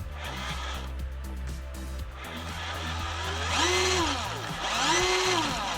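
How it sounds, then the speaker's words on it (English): An Eachine EAT01 6x6 RC truck's electric motor whines under throttle, a close, continuous buzzing drone whose pitch climbs and dips in two rising surges. "Okay, let's check the throttle out."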